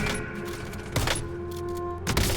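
Video game gunfire with a steady background drone, marked by two distinct sharp shot bursts about a second apart, moderately loud against the constant game ambience.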